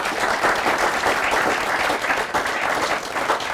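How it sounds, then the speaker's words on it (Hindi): An audience at a Haryana farmers' question forum applauds to welcome the experts, dense steady clapping from a sizeable crowd filling the space. "जोरदार तालियों के साथ हमारे विशेषज्ञों का स्वागत कीजिए"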